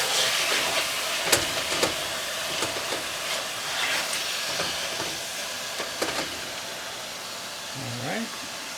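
Cajun sticky chicken browning in a pan gives a steady broadband sizzle with occasional sharp pops and utensil clicks, close by, and a voice speaks briefly near the end.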